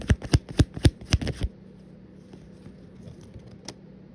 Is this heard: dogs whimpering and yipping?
no